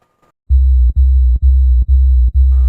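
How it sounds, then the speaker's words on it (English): Dark body bass synth preset from the Alchemy Electronic Library, played dry with no processing: deep, dull sustained low notes repeated five times in a steady rhythm, each cut by a brief gap, loud and alone. "dark body bass"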